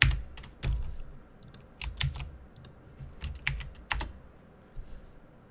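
Someone types on a computer keyboard nearby, with quick, irregular key clicks and a few louder strikes spread through the stretch. No voices are heard.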